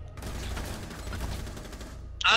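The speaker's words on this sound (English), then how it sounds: "oh, that's a fucking shotgun! I thought that was full auto" A shotgun firing in Rainbow Six Siege, with a dense, rumbling burst of loud shooting and a sharp, bright crack right at the end.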